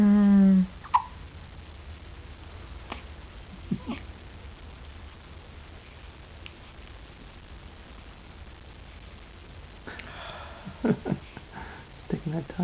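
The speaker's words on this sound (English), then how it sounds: "Hiccup." A baby hiccups with a few small, sharp catches spread through the quiet, mixed with soft sniffs and breathing close by, while an adult talks briefly at the start.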